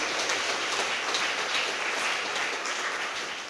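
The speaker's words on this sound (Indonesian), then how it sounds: "Tepuk tangan untuk mereka semua." Applause from a church congregation for the ministers and the choir of the Santo Yusuf Simpang Raya community during an Ash Wednesday morning Mass, a dense, steady patter of many hands clapping that continues throughout and fades slightly at the end.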